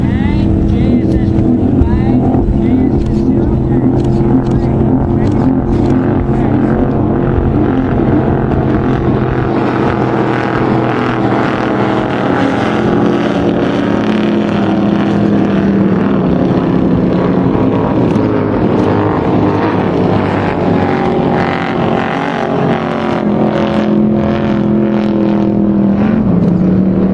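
Racing skiffs speeding across the water at a boat show, a continuous loud engine roar with shifting pitch as the boats run, steady and close throughout with no clear talk above it.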